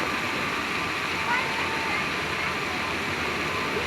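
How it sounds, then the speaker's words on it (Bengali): Loud, steady rush of heavy rain falling close by, a continuous watery roar with faint splashing. "বৃষ্টি পড়তেছে।"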